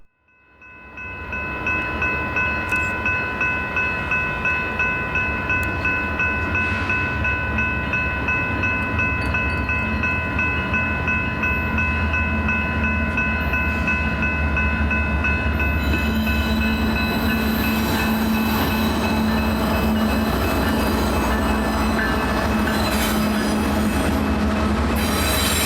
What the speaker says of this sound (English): Here we see Union Pacific's daily Chicago to Eagle Pass intermodal at Hopkins Street